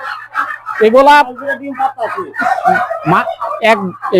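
Turkeys call and gobble inside a turkey poultry farm, their loud, repeated cries mixed closely with people talking nearby.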